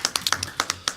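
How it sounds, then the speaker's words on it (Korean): Sparse, sharp claps close by at a youth-education forum as a university professor is welcomed to speak, eight or so distinct slaps at uneven intervals, crisp and dry with quiet gaps between them. "여러분의 박수로 청해 듣도록 하겠습니다."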